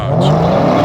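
A Dodge Challenger muscle car on a drag tire launches hard on a Woodward Avenue street during a car event, its engine roaring loud and steady at close range throughout the brief moment.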